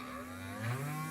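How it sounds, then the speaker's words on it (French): Small DIY compact drill press motor running steadily with a continuous tonal hum whose pitch shifts as the speed is adjusted, fairly loud and alone without talk. "une fois branché on a possibilité de régler la vitesse du moteur"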